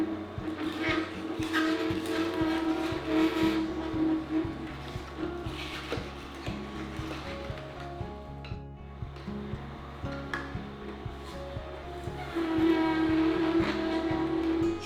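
A Nama Vitality 5800 cold press juicer working through apple and kale, giving a steady mechanical grinding and whirring with scattered creaks and crunching snaps, close and continuous.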